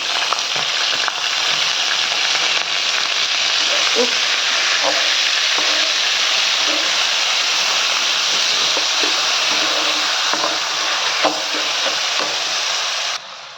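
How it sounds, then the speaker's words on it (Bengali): Rice sizzles loudly in a pan with browned onions while being stirred for hilsa pulao, a dense continuous frying hiss with scattered spoon scrapes and clicks throughout, close and without talk. "দেখুন চালটা ভাজতেছে"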